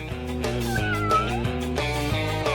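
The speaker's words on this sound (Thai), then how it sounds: "โอ้เย่ในที่สุดฉันก็ได้แมวแล้ว" A cat meows in a steady, continuous stretch of sound with no talk over it, coming through fairly loud against a dense, even backdrop.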